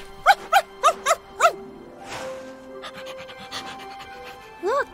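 An animated dog pants in five quick, rhythmic breathy bursts, close and loud, then quieter shuffling and a final short pant burst, with no speech.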